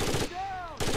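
Rapid automatic gunfire in the video game Rainbow Six Vegas 2 comes in loud bursts at the start and end, with a brief ringing tonal lull between them.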